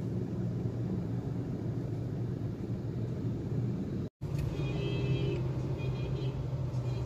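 On a busy street, motorcycles and tricycles pass by with a continuous rumbling engine drone, steady and moderately near, broken by one brief dropout.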